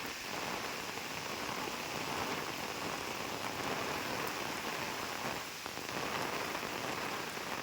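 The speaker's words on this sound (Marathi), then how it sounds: "तुफान असा पाऊस आला आहे वारा" Heavy, steady rain driven by wind pours down continuously on Konkan farm fields, a dense wash of drops drumming on surfaces with no voices.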